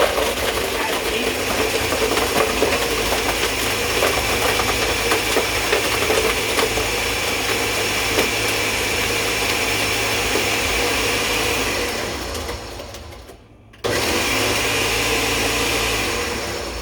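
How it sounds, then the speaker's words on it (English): A loud, steady mechanical whir of a blender runs continuously, grinding ice for frozen margaritas, then cuts out abruptly near the end before a brief restart. "I got it in the blender now"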